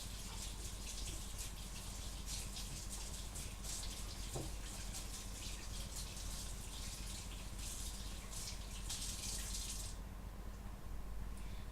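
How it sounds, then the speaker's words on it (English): Tap water runs steadily from a faucet while a knife is washed under it, a continuous hissing gush with faint clinks, close by, before the flow cuts off near the end. "I'm gonna wash my knife one more time again."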